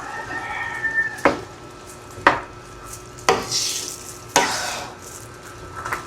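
Pork picadillo with green peas and raisins being stirred in a pan, giving four sharp spoon scrapes at roughly one-second intervals over a soft sizzle, close and fairly loud.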